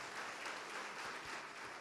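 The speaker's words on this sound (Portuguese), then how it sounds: "vamos aplaudir ao nome de Jesus por cada vida que está chegando" Congregation applauding in the name of Jesus during a church service, a brief, faint, continuous patter of many hands clapping.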